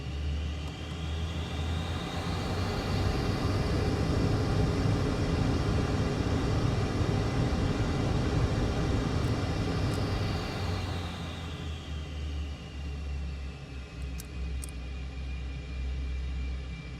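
SR-71A Blackbird jet engines in Microsoft Flight Simulator 2024 spooling up as the throttles advance, a loud roaring rumble with a rising whine that peaks and then eases to a steadier, slightly quieter drone.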